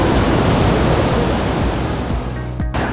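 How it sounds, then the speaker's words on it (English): Huka Falls on the Waikato River roars as a dense, steady rush of falling water, loud and close, a continuous broadband wash with no voices over it. "today I'm at the Huka Falls, just north of Taupo"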